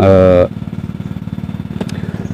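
Diesel hand tractor engine running while plowing a rice field, a steady rapid chugging pulse that follows a brief opening burst of other sound.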